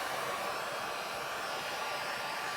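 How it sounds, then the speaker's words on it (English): A heat gun blowing hot air to dry paint on a t-shirt, a loud, steady, unbroken whoosh that runs alone from start to finish. "Just a little bit using the heat gun"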